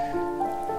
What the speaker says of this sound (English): Oh, now we have rain.